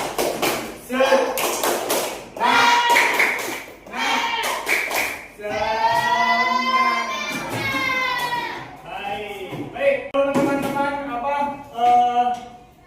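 A classroom group performs the Indonesian rhythmic clapping chant tepuk semangat, sharp clap bursts alternating with loud chanted voices in a lively, patterned rhythm.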